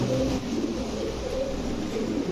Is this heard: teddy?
yes